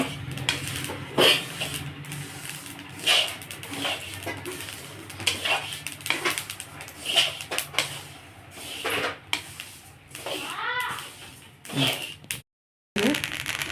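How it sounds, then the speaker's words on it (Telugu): Sesame seeds roasting in a pan for sesame laddu, giving irregular dry crackles and scraping stirs close up, with a brief dropout near the end. "ఎగేటప్పుడు చూడండి చిట్టపట్ట అంటున్నాయి"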